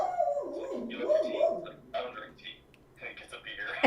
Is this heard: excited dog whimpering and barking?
yes